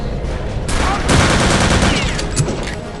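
Rapid gunfire from the World War II shooter Return to Castle Wolfenstein, loud bursts of automatic weapon fire crackling in dense volleys over game noise, with sharper shots near the end.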